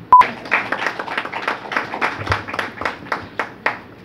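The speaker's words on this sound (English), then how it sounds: "give them a rousing round of applause for this initiative" Scattered applause at a press conference for a women's T20 cricket tournament: a small group claps in sharp, close, uneven bursts for about four seconds.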